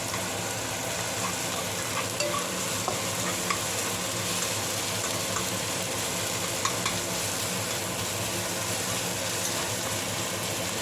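Mushrooms sizzle in a little oil in a pan for a creamy mushroom pasta, a close, even, continuous crackle broken by small pops, with no voices.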